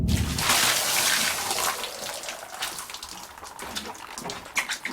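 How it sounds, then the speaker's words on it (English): Water runs steadily from a tap in the full-motion-video game Silent Steel (1995), a loud broadband gush that fills the scene and then thins into uneven splashing toward the end. "Water."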